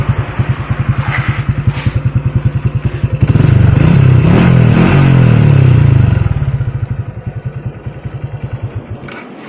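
A Honda Wave 125i motorcycle fitted with a modified, opened-up muffler idles with a rapid, deep exhaust putter. Midway it revs up into a loud, sustained roar for a few seconds, then drops back to the steady thumping idle.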